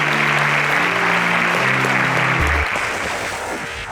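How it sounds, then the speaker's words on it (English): A studio audience applauds quiz show contestants as they leave the stage, dense sustained clapping under low musical tones that fades toward the end. "Let's give them a resounding round of applause as they exit."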